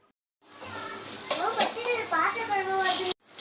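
Curry sizzles in a pan as coriander is stirred in, a close, steady frying hiss with a scraping stir, while a person talks over it.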